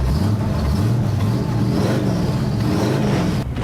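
A street rod's engine at a hot rod show rumbles loudly up close, revving in a steady, throaty burst.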